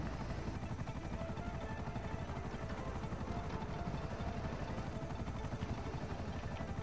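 A helicopter in GTA 5 chops steadily and continuously throughout, a low, even rotor thrum at moderate distance with no talk over it.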